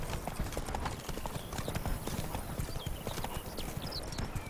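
Geralt's horse Roach trotting in The Witcher 3 video game, a steady run of hoof clip-clops, fairly faint and even in rhythm with soft ambient game sound.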